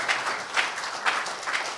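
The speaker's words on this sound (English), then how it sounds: "I thought you should stand up and give an ovation of clap" An audience at a political gathering gives a standing ovation for Peter Obi, a steady wash of applause from many hands that holds evenly through the whole moment without any voices over it.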